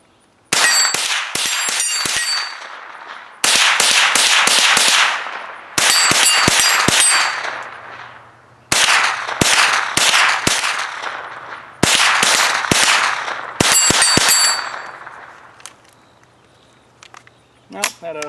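A Ruger 10/22 .22 rifle with a Magpul Hunter X-22 takedown stock fires shot after shot at steel targets outdoors, each sharp crack followed by a bright metallic clang, in several rapid strings separated by pauses.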